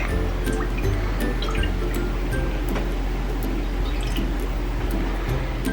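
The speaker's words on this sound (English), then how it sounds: "the first thing we're going to add into our pot is 2 cups of milk" Two cups of milk poured into a kitchen pot for a turmeric and ginger chia milk drink, a steady liquid trickle and splash with dripping, fairly close and continuous throughout.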